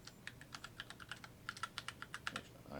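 A password is tapped out on a computer keyboard, a quick irregular series of close, quiet keystrokes with no voices.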